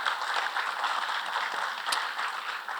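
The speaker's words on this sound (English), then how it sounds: "Give a round of applause for our panelists here this evening." An audience claps steadily throughout, a dense patter of applause at moderate volume with no voices over it.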